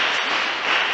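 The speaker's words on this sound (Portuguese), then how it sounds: "desocupe as vossas mãos e dê uma salva de palmas" Church congregation applauding, a short burst of dense, steady clapping filling the space.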